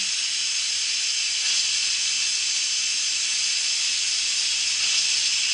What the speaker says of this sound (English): that's all pressurized steam coming out of there